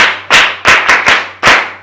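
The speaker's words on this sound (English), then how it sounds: "Let's clap for her." Five sharp, loud claps from children, close and unevenly spaced with short gaps between each crack, and no talking.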